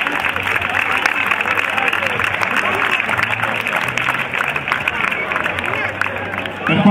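A crowd at a futsal team presentation applauds to welcome a player, with continuous clapping mixed with crowd chatter and murmur, fairly loud and sustained.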